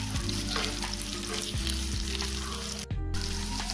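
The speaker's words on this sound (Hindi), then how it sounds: "पटल को अच्छे से थोड़ी देर फ्राई कर लेंगे" Pointed gourd (parwal) fries uncovered in an open pan, a loud, dense sizzle running throughout over a low hum, with a brief dropout near the end and no speech.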